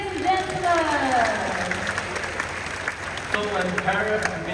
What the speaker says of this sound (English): Can we give Quincy a big hand, ladies and gentlemen?